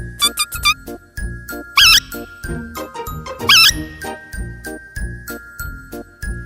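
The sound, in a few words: rat squeaking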